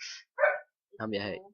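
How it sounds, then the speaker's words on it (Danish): A few sharp dog barks and a yip, close by, mixed with a brief spoken phrase. "Og det var min hund, der gød derfor."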